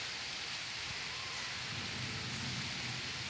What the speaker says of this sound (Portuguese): Olha o trovão.